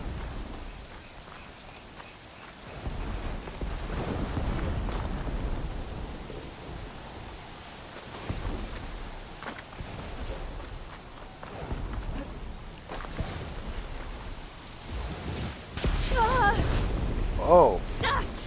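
Thunderstorm with rain in the video game Horizon Forbidden West: steady rainfall hisses throughout while deep thunder rumbles swell and fade, a louder burst near the end, with a voice speaking over it.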